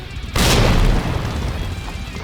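A grenade explodes in Resident Evil 2 Remake with a sudden, loud boom that rolls into a sustained rumbling roar and slowly settles, heard alone.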